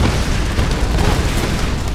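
Dynamite in Tomb Raider 2013 goes off as a dense, continuous roaring rumble of fire and debris, loud and broad throughout with no voices.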